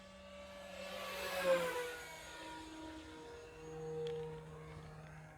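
Electric motor of a Dynam T-28 Trojan RC plane on 4S at full throttle, a faint distant whine that shifts in pitch as it passes overhead, with outdoor background.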